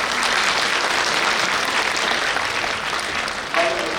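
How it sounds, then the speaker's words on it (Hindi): A large audience at a Hindi stage show bursts into sustained, dense clapping to welcome the guests on stage, steady and full throughout with a faint voice near the end. "सभी अतिथियों के लिए जोरदार तालियां बजा के स्वागत करें।"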